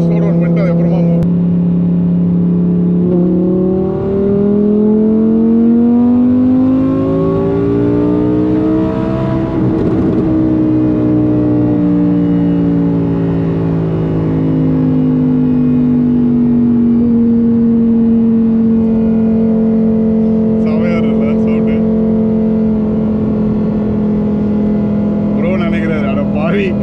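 A Lamborghini's engine revs hard and accelerates up close, its loud tone climbing in pitch over several seconds, peaking, then easing down into a sustained, steady drone.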